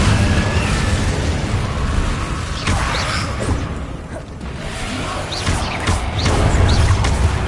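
Explosive spells fire off in Hogwarts Legacy, a run of whooshing bursts and booming blasts that keep coming over churning, noisy game action.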